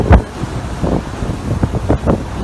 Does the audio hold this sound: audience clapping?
no